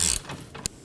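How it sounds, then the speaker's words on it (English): Ratchet wrench turning a rear upper control arm bolt on a Toyota Camry, a short burst of close, sharp mechanical clicking followed by a single crisp click. "support the other side with your wrench and remove the bolt."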